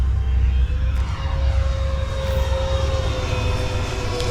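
An FMS P-47 Razorback 1500mm RC model warplane in flight, its electric motor whining and rising in pitch as it throttles up during a knife-edge pass, steady under wind rumble.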